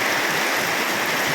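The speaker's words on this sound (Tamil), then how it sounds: "பயங்கரமான மழை பெஞ்சிட்டு இருக்குது" Heavy rain pours steadily as a dense, even hiss that fills the scene, with no voices or breaks.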